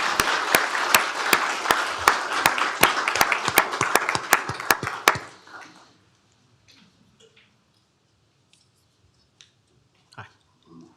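A small group claps in a county commissioners court, producing sharp, evenly spaced individual claps for about five seconds before stopping abruptly, followed by near silence with faint room noises.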